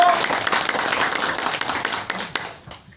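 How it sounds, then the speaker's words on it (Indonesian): Audience at an Indonesian Islamic religious lecture clapping on cue, a loud, dense burst of applause close by that fades out over a few seconds, with voices mixed in. "Tepuk tangan."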